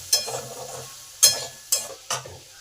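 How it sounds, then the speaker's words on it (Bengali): Ginger paste stirred with potatoes and onions in a frying pan: four distinct scraping strokes of a spoon over a soft sizzle, close and unaccompanied by speech. "আদাটাকে ভালো করে আলু পেঁয়াজের সাথে নেড়ে দিলাম।"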